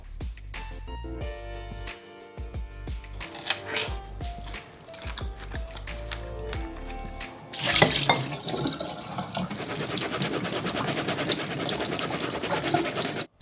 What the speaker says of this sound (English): Start by rinsing your pre-soaked cashews.